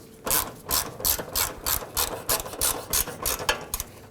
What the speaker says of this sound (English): let's go ahead and snug down the two nuts on the back